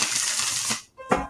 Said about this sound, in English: I love a good first shuffle.